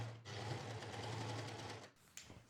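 A sewing machine or overlocker stitches steadily across the fabric edge of a skirt, a continuous close whirring run of about two seconds that stops, then a brief rustle.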